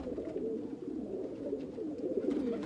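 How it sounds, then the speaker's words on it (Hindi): A green-ringed pigeon coos close by in soft, repeated low throaty calls, steady and unbroken, with no voices. "ये अंदर हरी कड़ियों वाला एक कबूतर है"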